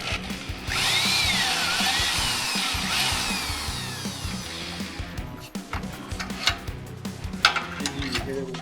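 A power tool whirs steadily for about four seconds, driving a bolt while a MotoBilt Tomahawk bumper is installed in a shop, followed by clanks, knocks and scattered workshop noise.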